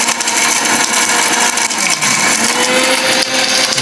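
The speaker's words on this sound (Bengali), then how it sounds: "ডিজনি ইটালি 3 জারের ব্লেন্ডার" A Disney Italy three-jar blender grinds stones at full power, a loud harsh continuous whirring roar with rattling grit churning inside the jar.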